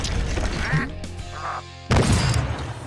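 A bird quacks in Spyro 2: Ripto's Rage, several short nasal duck-like calls in quick succession over game music, close and fairly clear, with a brief pause before a louder burst.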